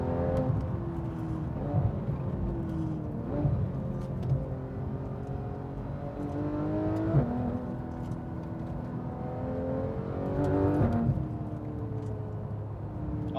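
A sports car engine, either a 2011 BMW 1M or a Porsche 911 GT3 RS, revs and accelerates through several rising pulls with shifts between, loud and close with no talking.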